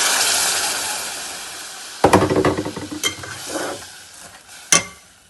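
Full-cream milk goes into browned vermicelli in a hot pan, with a loud close hiss of sizzling, bubbling liquid and the scrape of stirring, and a sharp clink near the end.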